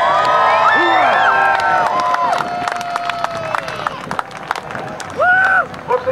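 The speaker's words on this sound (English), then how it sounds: "So let's let them hear you yell." An airshow crowd yells, whoops and cheers loudly for a parachute team descending overhead, with children's shrieks rising and falling in overlapping waves and a final burst of shouting.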